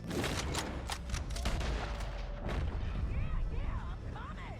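Rapid bursts of video game gunfire crack in dense, overlapping volleys, close and loud, then thin into scattered shots with swooping whizzes near the end.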